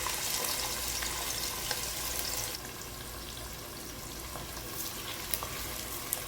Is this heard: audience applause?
no